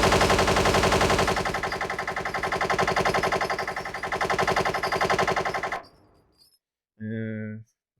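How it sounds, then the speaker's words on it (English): Rapid automatic gunfire from a video game machine gun rattles loud and continuous for about six seconds, then cuts off, followed by a short burst of voice. "machine guns are way better though. Don't you just like how the bullets fall out"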